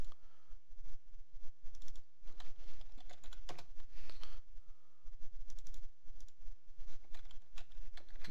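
Steady typing on a computer keyboard while editing a zombie photo montage, a continuous run of close, dense key clicks with brief pauses and no voice.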